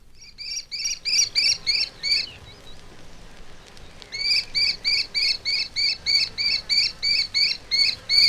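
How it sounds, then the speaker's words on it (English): A kestrel chatters near its breeding place in woodland, giving rapid high repeated notes in two long bursts separated by a short pause, clear and fairly close. "The high chatter can be heard around the breeding place and outside the nesting season."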